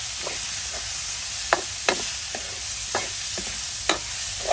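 Pork sizzles with garlic as it is stir-fried in a pan. A steady frying hiss runs throughout, and a spatula scrapes and taps against the pan in irregular clicks, with no talking.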